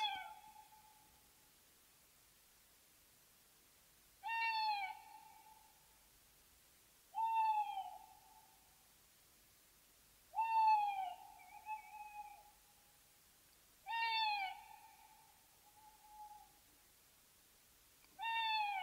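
An owl hoots at spaced intervals, clear and isolated against near silence, each call a short wavering hoot repeated about every three seconds.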